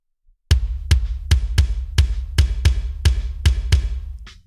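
Layered kick drum samples sent through reverb for added dimension, striking about ten times in a steady rhythm, each deep, punchy hit trailing into a reverberant wash, loud and alone with no talking.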